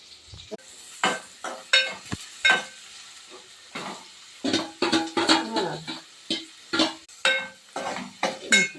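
Food frying in a pan with rice bran oil in a home kitchen, with repeated scraping and stirring strokes over a soft sizzle, loud and close in uneven bursts, no talking.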